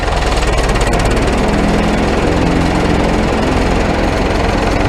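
A Lastec 721 mower runs loud and steady as its blades are engaged with the PTO lever, a dense, continuous engine drone with a rapid rhythmic chatter and no voices.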